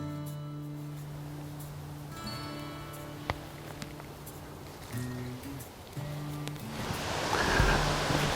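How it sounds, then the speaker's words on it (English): Water from a small creek on a Tennessee hiking trail, flowing toward a waterfall, hisses faintly behind a steady low hum and grows louder and nearer toward the end. "we can hear water"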